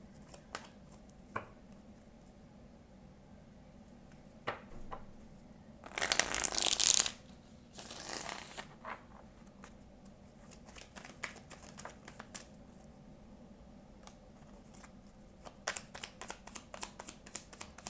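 Tarot cards shuffled by hand, with one dense riffling burst in the middle and a shorter one after, surrounded by quiet card handling and light taps close by.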